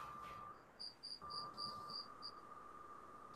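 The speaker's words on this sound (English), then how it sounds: "They're crickets." Crickets chirp in short, evenly spaced bursts over a steady high whine and faint background hiss, fairly quiet and with no voices.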